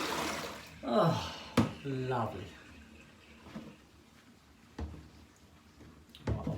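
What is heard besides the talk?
water being tipped away into sink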